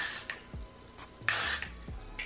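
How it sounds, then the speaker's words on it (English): Hairspray is sprayed onto a brushed-out front section of hair in a ponytail style, with two or three short, sharp aerosol hisses up close, separated by quiet gaps. "Give it a little spray."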